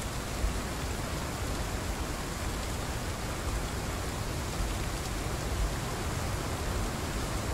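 Steady rain falls in the dinosaur survival game Path of Titans, a dense, even hiss of drops with no breaks or changes in intensity, heard alone without voices.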